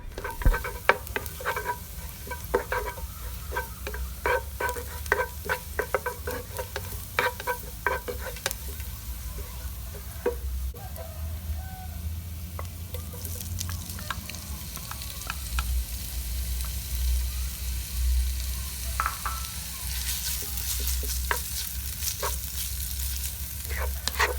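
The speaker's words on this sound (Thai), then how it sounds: "แล้วใส่เนื้อหมูสับลงไปผัดให้สุกครับ" Minced pork stir-fried with garlic in a pan, a continuous sizzle under rapid scraping and clacking strokes of a utensil, busy in bursts and then easing into a steadier fry, close and moderately loud with no talk.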